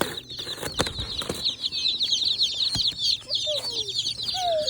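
Baby chicks cheep in rapid, overlapping high peeps as they are put into a brooder box on a farm, with a few soft thumps and brief scuffs as they settle.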